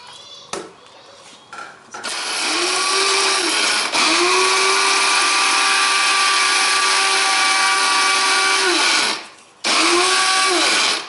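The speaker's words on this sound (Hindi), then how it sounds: "अब हम लोग इसको ग्राइंड करेंगे" An electric grinder whirs through roasted spices for dahi bhalla masala, starting with short bursts, then running loud and steady with a high whine before stopping briefly and restarting.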